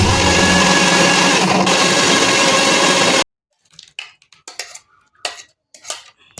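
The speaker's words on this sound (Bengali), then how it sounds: "আমটা এবার মিক্সার করে নেব।" A mixer grinder blends mango in a loud, dense, steady whir for about three seconds, then cuts off abruptly, leaving scattered clinks and kitchen clatter.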